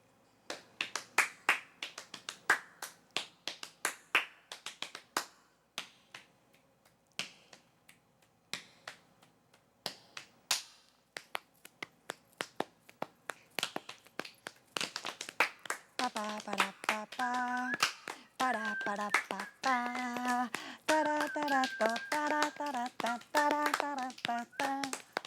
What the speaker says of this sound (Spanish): tenemos los chasquidos, las palmas